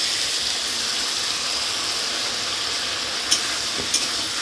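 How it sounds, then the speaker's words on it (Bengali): Vegetables are stirred in a pan with ground white mustard paste, giving a steady soft sizzle and scraping texture with two brief sharper clinks near the end, with no voices. "ভালো করে একটু নাড়াচাড়া করে নেব।"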